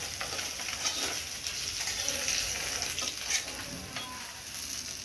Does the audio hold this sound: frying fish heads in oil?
yes